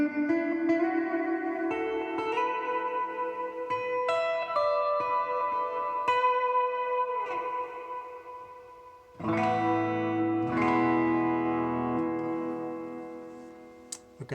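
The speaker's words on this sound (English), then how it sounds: "Channel 4 is a much more extreme reverb." Electric guitar played through a Vox VT40X amp on channel 4 with extreme reverb: sustained chords and single notes ringing out with long, washy tails, and a fresh strummed chord midway that slowly decays.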